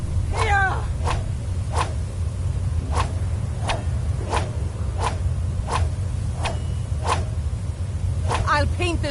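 A sabre cat snarls and growls in Skyrim during a fight. Harsh cat cries open and close the clip, with a steady beat of sharp thuds between them over low rumbling game ambience.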